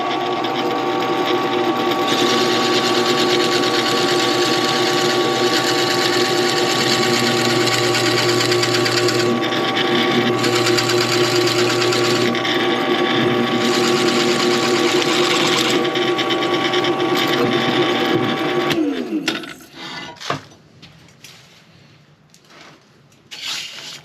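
A drill press boring through an end grain walnut pen blank for a Commander pen kit, a loud steady motor whine with grinding for most of the span, then spinning down to quiet clunks at the end.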